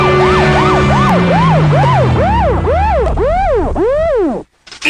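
A loud police siren wailing up and down in quick, regular cycles, close and dominant, cutting off abruptly near the end.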